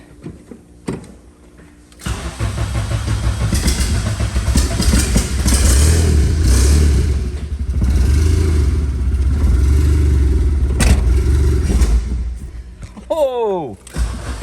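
A car engine runs steadily after a fresh turbo kit install, a loud low rumble that starts after a brief quiet opening and holds for about ten seconds, with a short squeal or whine near the end.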